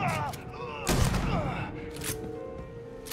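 Gunfire in the space video game Starfield: a loud close shot burst near the one-second mark and another sharper report later, between quieter stretches with a voice briefly audible.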